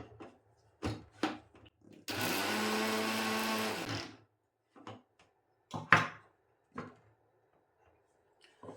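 A kitchen mixer grinder grinds turmeric into kumkum powder, roaring in one loud, steady two-second burst, with scattered clicks and knocks of the jar and lid before and after.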